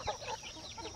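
A hen gives a brief, soft clucking call, a quick low murmur lasting about a second with no other sound around it.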